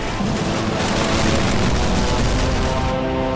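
Tank cannon fire in the Army Men of War strategy game, during a city defence battle: a dense, loud burst of booming shots and gunfire layered over one another for a few seconds, with no speech.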